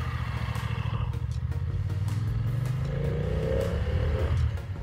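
A 2020 BMW F900R motorcycle engine drones loudly and continuously while riding on California roads, the pitch rising steadily as it accelerates, with wind and road noise around it.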